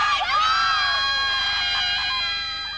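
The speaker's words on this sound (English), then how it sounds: "as day dawned, the crowd swelled and so did the noise" A crowd of fans outside a posh London hotel, cheering and shrieking at dawn, with high sustained screams and whoops rising together, loud and continuous before fading slightly.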